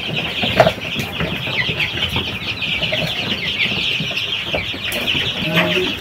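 Chickens cluck repeatedly in a rural village yard, moderately loud and fairly close, with steady background noise and a few faint voices underneath.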